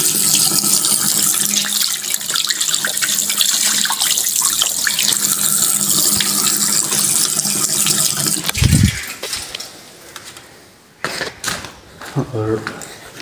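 Hands are washed under a running kitchen tap, with water gushing and splashing steadily for several seconds before cutting off, followed by a few short clattering bursts and a voice talking over it.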